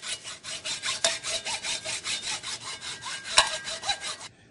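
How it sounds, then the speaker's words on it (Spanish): A hacksaw blade cuts through an old wooden broom handle in steady back-and-forth strokes, close and even, with a couple of sharper scrapes partway through and no talking. "Comenzamos entonces a cortar aquí con nuestra hoja de segueta."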